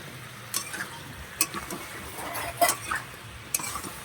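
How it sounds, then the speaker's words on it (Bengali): Fish with eggplant and potato fries in a pan, a soft sizzle under intermittent stirring, with scattered scrapes and light clinks of a utensil against the metal. "এটাকে ভালো করে ভেজে নেব এবার।"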